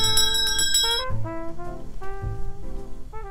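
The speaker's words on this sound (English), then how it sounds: "Ring the bell. Ring the bell." A bell rings in a quick run of bright, ringing strikes. Further tones follow, spaced out and clear, with no voices over them.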